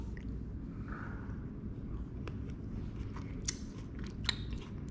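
Someone bites into a halved Sunset Flavor Bombs cherry tomato and chews it close to the mic, with soft wet crunches and squishy clicks over a steady room hum, no talking.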